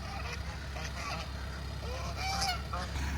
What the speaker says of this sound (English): we brought some of our more mature geese over here